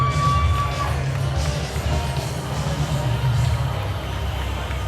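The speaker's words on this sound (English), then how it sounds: "The fans chanting for Dick here." Wrestling fans at an Innovative Hybrid Wrestling live event chant and cheer as one steady, dense crowd roar filling the venue, with babble and shouts mixed through it.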